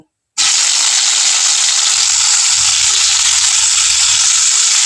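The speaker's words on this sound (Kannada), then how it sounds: "ಇವಾಗ ಇದನ್ನ ಫ್ರೈ ಮಾಡ್ಕೊಳ್ಳೋಣ" Ragi flour frying in ghee and oil sets off a loud, steady, close sizzle that starts abruptly after a brief silence and carries on evenly, with faint low stirring underneath.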